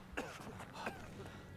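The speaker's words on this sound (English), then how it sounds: "He's got a really bad cough." A character in Brothers: A Tale of Two Sons coughing, two or three short harsh coughs in quick succession, close and clear.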